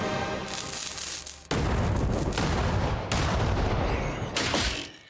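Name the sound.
hand cannon gunfire in the video game Kingdom Come: Deliverance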